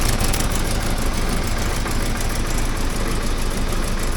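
A 1979 Porsche 924 engine idles steadily and loudly up close from underneath the car, its exhaust carrying a small pinhole leak, producing a continuous dense rumble with no voices.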